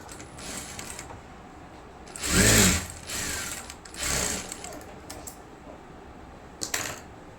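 A sewing machine stitches the back piece of a blouse in short runs, with one louder burst near the middle, two more bursts later on, and quieter mechanical whirring between them.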